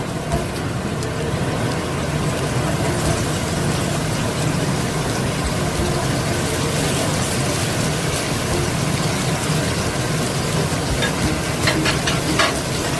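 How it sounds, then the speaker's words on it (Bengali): Potatoes and mixed vegetables for sabudana khichuri frying in a pan, a continuous close sizzle with stirring and scraping that grows busier toward the end. "দিয়ে এগুলোকে ভালো করে ভাজবো"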